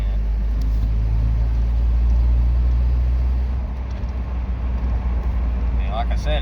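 Toyota truck with a 22RE engine driving along, a steady low engine drone and road rumble running loud and close throughout, with voices talking over it.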